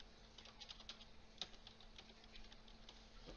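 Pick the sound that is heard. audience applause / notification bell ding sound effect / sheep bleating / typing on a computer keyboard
typing on a computer keyboard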